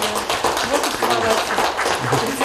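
Applause at an anniversary celebration, a continuous wash of clapping hands from a crowd, heard under voices talking nearby.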